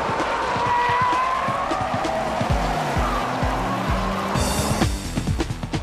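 Honda NSX-R, fitted with larger-diameter tires and racing pads and suffering brake problems, races a Ferrari F40 on a circuit; loud engine roar with shifting revs throughout, brief tire squeal as the cars push through a corner.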